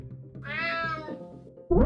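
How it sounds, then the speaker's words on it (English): A cat in the video game UnMetal meows once, a clear drawn-out cry over a low music bed, followed by a sharp thump at the end. "Damn cat."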